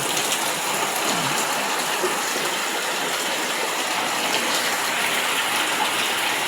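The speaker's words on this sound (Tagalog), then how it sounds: "O grabe kayong ulan." Heavy rain pours down in a dense, steady roar of broadband hiss, loud and continuous throughout with no talking.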